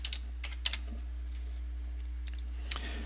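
Data typed on a computer keyboard: scattered, crisp key clicks come in small clusters with pauses between them, close and clear over a steady low hum.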